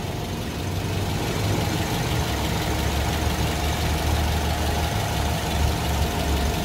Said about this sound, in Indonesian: Kondisi mesin sama, dia bunyinya juga nggak kasar dan kondisi mesin terawat ya, bersih.